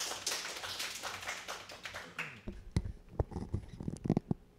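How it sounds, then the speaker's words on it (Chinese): Audience applause welcoming a speaker to a Ruby programming conference session: dense, loud clapping for about two seconds that thins into a few scattered, sharp claps and taps. "那我们掌声欢迎讲者"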